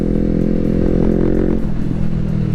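A Honda CBR250RR sport motorcycle engine runs steadily close by, a dense, even buzzing drone with a slight rise in pitch, with no talking.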